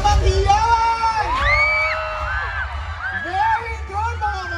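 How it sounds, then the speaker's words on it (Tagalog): Crowd at a sari-sari store convention cheering and whooping with excited shouts and yells for a special guest, loud and sustained, with high rising voices over a dense roar. "isang malakas na palakpakan na may kasamang hiyawan!"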